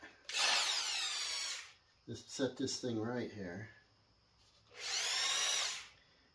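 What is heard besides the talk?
hammer drill running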